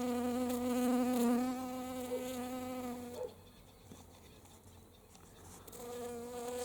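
Bees buzzing around tiny bright blue flowers in a hot, dry garden, a steady droning hum that rises and falls as the insects move close and then drift away.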